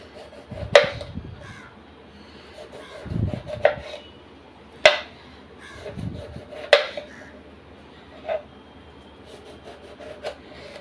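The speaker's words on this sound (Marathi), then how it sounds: "आता आपण याचे गोल गोल काप करून घेणार आहोत. असे छान पतले पतले काप काढायचे आहेत आपल्याला." A knife cuts a bharit eggplant into thin round slices on a board, each stroke landing as a sharp, separate tap at an uneven pace with pauses between cuts, close and fairly quiet.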